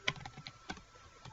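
Someone typing an email address on a computer keyboard: a short burst of quiet, close key clicks in an uneven rhythm, with no talking.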